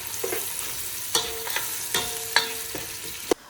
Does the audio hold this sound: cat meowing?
no